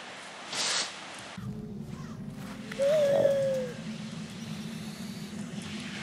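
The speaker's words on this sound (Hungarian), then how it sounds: "Ez csak sas." An eagle call from the prehistoric video game Far Cry Primal rings out as a single clear, thin cry over a steady low ambient hum from the game.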